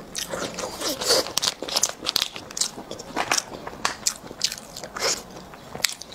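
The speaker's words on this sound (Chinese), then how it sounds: "它的外边这个是脆，有点脆皮似的香，很脆" Close, crisp crunching as someone bites into and chews crispy-skinned fatty pork, with repeated crackling bites and soft chewing between them.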